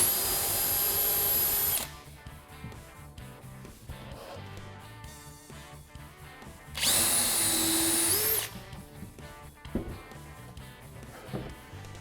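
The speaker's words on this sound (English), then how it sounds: "And then I can drill the pilot holes." A power drill bores pilot holes for door hinge mounting screws in two loud whining bursts, each under two seconds long, with quieter handling noises between and after them.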